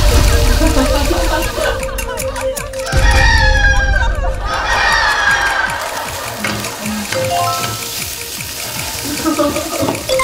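Chickens clucking and a rooster crowing in a rural outdoor setting in winter, with busy overlapping bird calls, a burst of rushing water-like noise partway through, and faint talk in the background.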